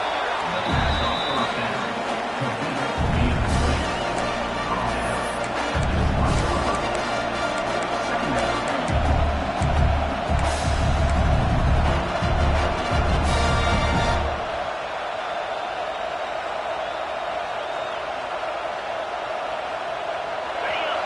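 Football stadium crowd at an Ohio State versus Michigan State game roaring steadily in double overtime while the home defense holds in the red zone, a dense sustained din that thins near the end, under a commentator's talk.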